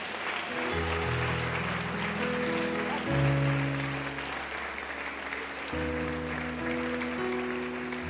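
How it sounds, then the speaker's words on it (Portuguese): Church congregation clapping sits fairly faint beneath sustained keyboard or organ chords that shift a few times, the applause forming a soft, steady hiss behind the music. "Dá uma salva de palmas para o Senhor."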